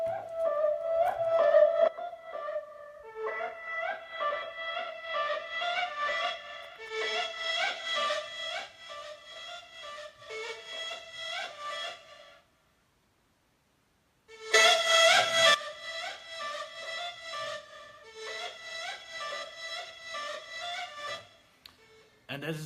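Serum synth lead preset called Cursed Snake, soloed: a bright, buzzy lead playing an Arabic-flavoured melodic line in phrases, with a short silent gap midway, clean and alone.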